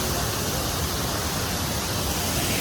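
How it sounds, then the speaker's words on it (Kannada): Kalburgi Falls near Mysore roars as a dense, unbroken wash of falling water, loud and steady throughout with no other sounds rising above it. "ಕಲ್ಬುರ್ಗಿ ಫಾಲ್ಸ್ ಬಂದಿದ್ದೀವಿ."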